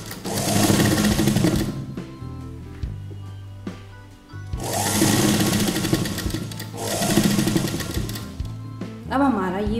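A sewing machine stitches a puff sleeve onto a kurta in three loud, close runs of rapid mechanical needle clatter, with brief pauses between runs and a voice speaking during the pauses.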